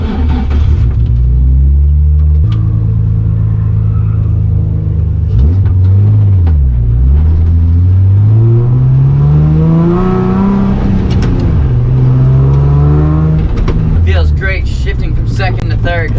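A Nissan 350Z with a chassis-mount shifter is driven hard while drifting, its engine revving loudly and close, pitch climbing and dropping through repeated throttle blips over a constant rumble.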